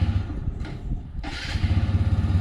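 A 2025 RTR 160 2V motorcycle engine catches and starts partway through, then settles into a steady, throbbing idle that stays close and loud.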